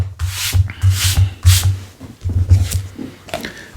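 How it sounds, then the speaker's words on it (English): The top edges of a vintage Dell paperback are rubbed down by hand in short repeated strokes, giving close, dry scuffing swipes with brief gaps between them. "give these the tops a little rub down as well"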